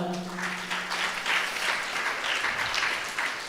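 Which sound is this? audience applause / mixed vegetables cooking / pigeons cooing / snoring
audience applause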